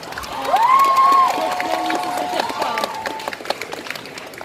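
Audience at a cosplay contest in Nantes breaks into applause and cheering, with a rising whistle-like tone near the start; the clapping thins to scattered claps by the end.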